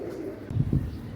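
A captured pigeon coos softly, two low murmuring pulses close by against a quiet background.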